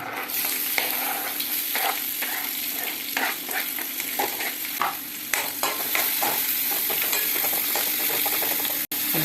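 Chopped onion frying in a pan with pepper, curry leaves and fennel, a continuous bright sizzle broken by frequent scraping stirs of a spoon, close and steady throughout.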